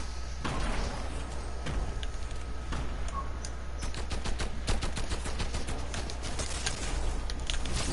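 Rapid gunfire from a PS4 shooter game, bursts of sharp cracks and automatic fire coming in irregular clusters over a constant low engine-like drone, with no talk over it.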